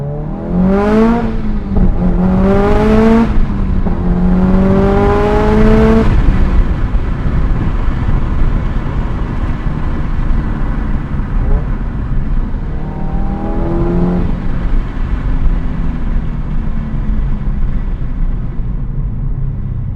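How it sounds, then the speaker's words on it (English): A 2005 Subaru WRX STi with an EJ207 engine revs hard through several rising gear pulls, exhaust loud and close, then settles into a lower droning cruise. "See if we can capture some of that snappy aggressiveness from that exhaust."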